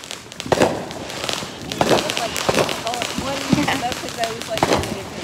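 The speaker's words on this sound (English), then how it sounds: "Fireworks!" Fireworks go off outdoors in a series of cracking pops and booms, some sharp and close, others softer, scattered unevenly with a fizzing whistle between bursts and people talking over them.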